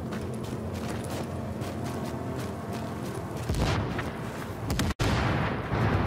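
Explosions in The Division at the Warren Gate power plant: a continuous rumble of booming gunfire and blasts, swelling into a louder burst near the end, with a sharp cutoff and no talk.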